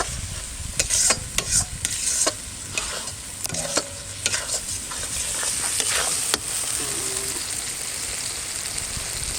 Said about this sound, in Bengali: মশলা সুন্দর কষিয়ে নিচ্ছি